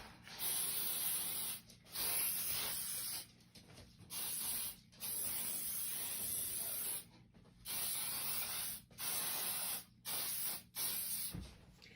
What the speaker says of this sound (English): you want to spray your hairspray over the entire frame and give it a really good thick coat